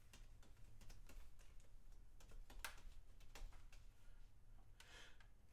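A computer keyboard clatters with soft, irregular keystrokes in quick runs and scattered single taps, faint and close, with no voices.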